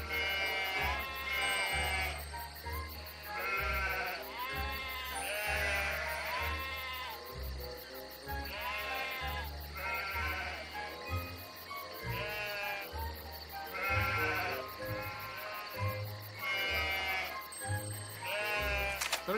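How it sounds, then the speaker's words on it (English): Repeated three-headed sheep bleats in quick succession in the video game Toy Story Mania, over a steady, busy game soundtrack with a pulsing low beat, loud and continuous throughout. "I think three-headed sheep just might do it"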